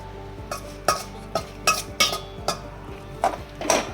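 Crushed dates and figs dropped into a pan of ghee for dryfruit ladoo, with a utensil clinking sharply against the pan about nine times in an uneven rhythm, close and clear.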